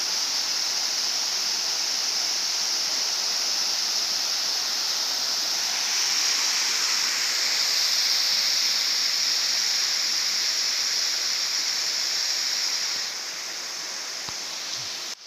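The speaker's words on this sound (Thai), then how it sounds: "น้ำตกตาสะดออุทยานแห่งชาติแม่ปิงลำพูน" Ta Sado waterfall in Mae Ping National Park, Lamphun, Thailand, gives off a steady, even rush of falling water, a constant broadband roar that stays unbroken throughout with no voices.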